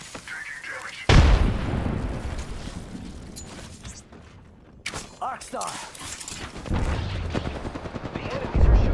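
Enemy gunfire in Apex Legends, with loud bursts of rapid shots that start abruptly, fade, and return as sustained automatic fire amid game effects, and a voice talking over parts of it.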